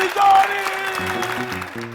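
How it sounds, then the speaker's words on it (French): A studio audience on a French TV entertainment show claps to welcome the referee, a brief burst of applause with voices mixed in. "Applaudissements pour recevoir l'arbitre du jour, Johnny"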